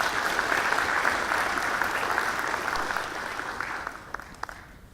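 An audience at a public forum in 2018 gives a round of applause, dense and steady for about three seconds, then thinning into scattered individual claps as it fades.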